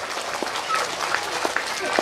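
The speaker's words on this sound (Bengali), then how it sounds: "ওনার জন্য একটু জোরে হাততালি দেবেন" A crowd applauds a guest, a social worker, poet and writer, invited onto the stage at a school annual day and convocation: steady diffuse clapping from a hall audience throughout, moderately loud, with some chatter mixed in.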